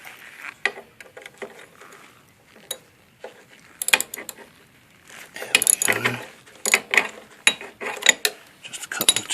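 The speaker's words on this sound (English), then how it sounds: "I'm just taking out the 4 hex bolts from here so I can remove the screen." Metal hex bolts being loosened with a wrench on a home oil boiler, giving irregular clicking and ratcheting bursts with scraping metal contact, close and fairly loud, growing busier toward the end with no talk.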